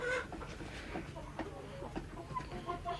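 Faint, scattered clucking from desi chickens on a poultry farm, soft and somewhat distant, with low background noise throughout.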